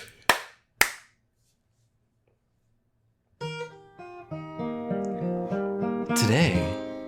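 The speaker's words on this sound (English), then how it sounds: "Let me do the clap first." Two sharp, loud hand claps close to the microphone, spaced about half a second apart, followed by silence and then sustained musical tones.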